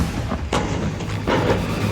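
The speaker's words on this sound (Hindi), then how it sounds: "बम की तरह फटे एलपीजी सिलेंडर," LPG gas cylinders blast one after another on the Jaipur-Ajmer highway after a truck collision, two muffled distant booms standing out from a low rumbling background.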